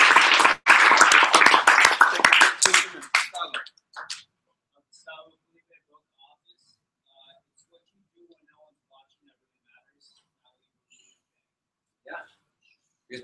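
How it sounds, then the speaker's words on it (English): A room full of people gives a short round of applause for Jose. The clapping is dense and loud for about three seconds, mixed with voices, then quickly dies away into near silence with a few faint stray sounds. "We'll give Jose a round of applause."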